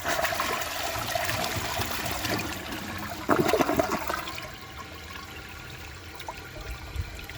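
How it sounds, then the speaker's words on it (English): A Vortens Vienna toilet flushing, loud rushing water for several seconds with a surge midway, then settling into a quieter trickle as the bowl refills. "now let's give it another flush and see if it can take the rest of that dirt"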